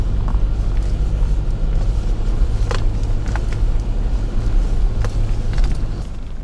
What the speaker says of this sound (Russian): Едешь по колее, по своей же.